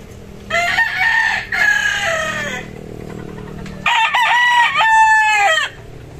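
A Pure Boston gamecock rooster at a breeding area crows loudly and close, two long crow bursts with a short clucking call between them, no talk.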